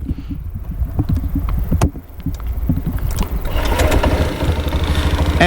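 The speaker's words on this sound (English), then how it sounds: "And the bike just started." A Honda SH150i scooter engine cranks and catches, shifting from a few clicks and brief rumbles into a steady low idle that continues to the end, close to the microphone.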